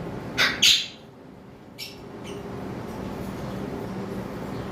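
A pair of normal blue Fischer's lovebirds on a bird farm give two quick, shrill squawking calls close by, followed by a softer chirp amid steady background hum, with no talking.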